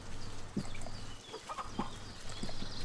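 Chickens clucking in the survival game Force of Nature, a few short soft clucks spaced over a steady background bed, no talk.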